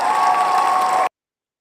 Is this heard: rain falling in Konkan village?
no